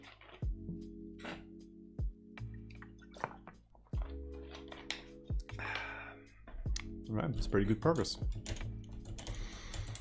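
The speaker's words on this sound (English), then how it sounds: "We can hear you stroking your keyboard, by the way." Typing on a Topre Happy Hacking Keyboard produces bursts of close, muted keystroke clicks and thocks in irregular clusters, with someone speaking briefly over them.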